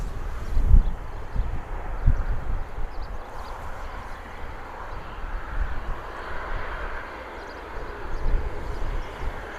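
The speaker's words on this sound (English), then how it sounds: "We have a C-17 flying over" A C-17 military transport aircraft passing high overhead at around 36,000 feet near Bristol Airport, heard as a faint, broad, steady jet roar that swells slightly in places, with no talk.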